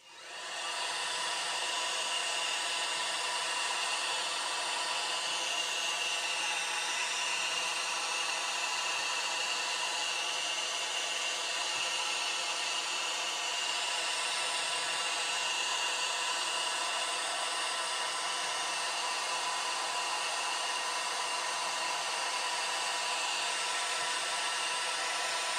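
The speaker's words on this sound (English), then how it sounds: "Shall I blast it with the hairdryer?" A hairdryer blows on freshly painted scale models, a steady, unbroken roar that starts abruptly and holds at one level, close and loud, with no voices over it.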